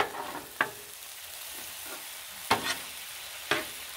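Chili ingredients with meat being stirred and sizzling on a Blackstone griddle: a steady soft frying hiss with a few sharp scrape-and-clank spatula hits, moderately close and without talk.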